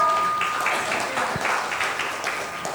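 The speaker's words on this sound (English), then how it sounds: "A big round of applause for spiritual Sunil." Brief audience applause at a national trainers and speakers conference, a burst of clapping fading over a few seconds with a faint tone underneath and no talking.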